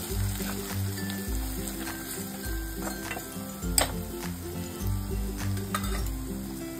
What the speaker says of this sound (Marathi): आता आपण ही कसुरी मेथी टाकणार आहोत. हे सगळं छान असं मिक्स करून घेऊयात